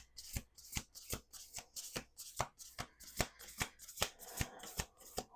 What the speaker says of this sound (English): we're going to do 2 more shuffles because I've been shuffling for 9 minutes